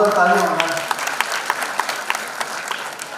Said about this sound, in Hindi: पद्मश्री कैलाश खेर जी के लिए एक बार और मेरी तरफ से जोरदार तालियां होना